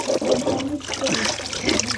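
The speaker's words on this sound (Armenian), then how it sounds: "Ստեղ էլ աղբյուր կա" Water from a spring runs in a steady, close trickle and splash, continuous and moderately loud throughout.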